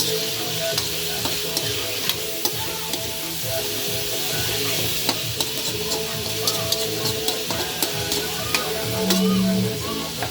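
Moringa pods frying and sizzling in a pan with tomato, with a steady hiss, stirring scrapes and clicks near and fairly loud, and a faint voice at times.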